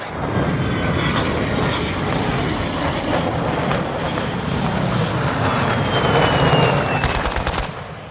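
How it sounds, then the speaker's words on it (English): Aircraft engine drone from a friendly UAV passing overhead in the shooter game Call of Duty: Modern Warfare II, a steady loud rumble with gunfire-like crackle and a brief whine toward the end, no voices. "Friendly UAV on station."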